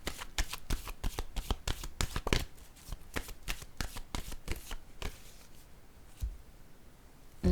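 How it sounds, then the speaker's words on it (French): A deck of cards being handled and drawn, a rapid series of sharp riffling card snaps that thins out and stops, close and clear with no talking. "je vais piger une autre carte."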